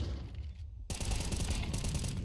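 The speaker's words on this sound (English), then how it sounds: "Oh, good flashbang." A flashbang grenade goes off in a Counter-Strike match, a sudden loud bright burst after a quiet moment, followed by sustained ringing, crackling gunfire-like noise.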